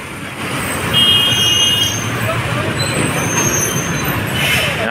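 Traffic at a pier where a fire is burning gives a continuous roadway rumble of passing cars and trucks, swelling slightly in the middle. No one speaks.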